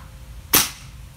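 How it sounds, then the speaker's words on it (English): A single short, sharp gunshot fired through a Buck Rail 1/2-20 UNF suppressor, a muffled crack with a quick decay over quiet background, heard close with no talking. "there's almost no report with the suppressor on. You can hear the action in the gun and everything"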